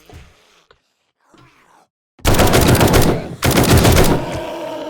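Automatic gunfire in the zombie survival game 7 Days To Die bursts out loud and sustained in two rapid strings after a few quiet groans and moans.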